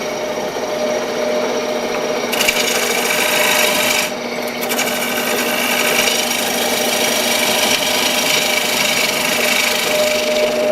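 Wood lathe roughing the outside of a bowl, the gouge cutting with a continuous loud scraping rasp over the motor's hum, with brief changes in tone as the cut shifts.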